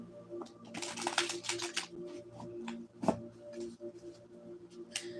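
Tarot cards shuffled by hand in several bursts of soft papery riffling and flicking, with a sharp slap of the deck partway through, close and moderately quiet with no talking.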